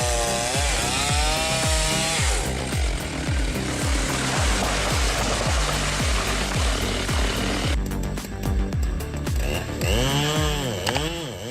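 Stihl MS-651 and MS-382 chainsaws cut into a towering giant red tree, their loud engines snarling and revving in pitch-shifting surges, with music playing underneath throughout.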